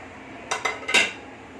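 Short drumstick pieces dropped into a pressure cooker give three or four quick metallic clinks and clatters in a row, close and fairly loud against a quiet room.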